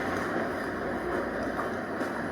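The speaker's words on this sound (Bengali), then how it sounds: "সম্ভবত ট্রেন চলে আসছে, এই জন্য সবাই তাড়াহুড়ো করে যাচ্ছে।" Steady broadband rumble of a metro train in an underground station, loud and continuous, with no speech.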